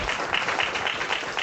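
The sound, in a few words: audience applause at end of session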